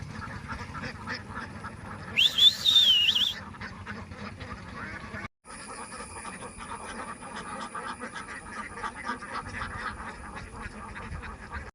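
A flock of ducks in a Kerala village, their quacking close and busy over an outdoor background. A brief high whistle-like call stands out early, and the activity continues after a short gap.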